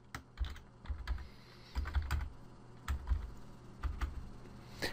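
Password typed on a computer keyboard while logging into a Windows XP Embedded POSReady install: quick, irregular clicking keystrokes in short bursts with brief pauses, close and fairly quiet, no talk.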